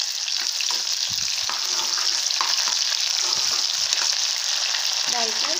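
Chopped onion, green chilli and coriander fry in a pan for tomato chutney, making a loud, dense, continuous sizzle with occasional stirring scrapes.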